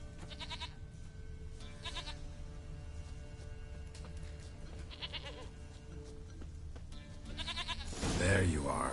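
A goat bleats in the video game Witcher 3, several short wavering calls spread over a steady game backdrop, with a louder burst of sound near the end.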